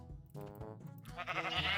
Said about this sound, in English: But here we can see the sheeps already